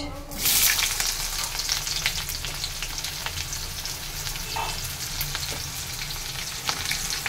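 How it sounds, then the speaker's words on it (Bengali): Onions and whole cumin seeds frying in hot oil for ghugni, a loud, close, continuous sizzle with occasional stirring scrapes and no speech. "পেঁয়াজটাকে লাল লাল করে ভাজবো"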